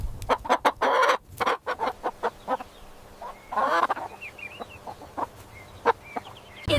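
A chicken clucks over and over in quick, choppy bursts, close and fairly loud, with a louder squawk partway through and a few softer background calls.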